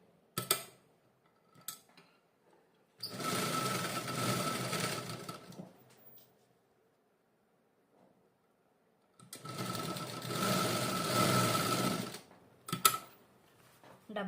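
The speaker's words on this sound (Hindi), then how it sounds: "सीधे पार्ट्स को डायरेक्ट उल्टा फोल्ड करेंगे और ऐसे पकड़ के एक फाइनल स्टिच फिटिंग की दे देंगे 1/2 इंच की।" A sewing machine stitches a blouse seam in two long steady runs of rapid mechanical whirring, separated by quiet pauses with a few soft handling clicks.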